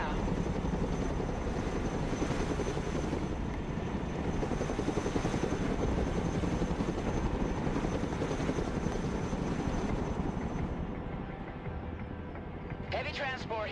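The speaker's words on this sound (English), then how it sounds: "Let's go and recover it with our helicopter." A Chinook heavy transport helicopter flies in the Broken Arrow video game, its rotor drone steady and loud throughout before easing off near the end as a few faint clicks and chirps cut in.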